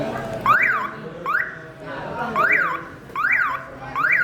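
A car alarm whoops through repeated rising-and-falling siren cycles, moderately loud, with some background chatter and movement underneath.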